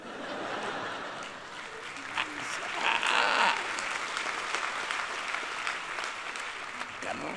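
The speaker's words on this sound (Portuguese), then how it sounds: "Eu até peço um aplauso para a equipa técnica" Scattered clapping from a small group at a Christmas show rises briefly and then fades, with talk and crowd noise underneath.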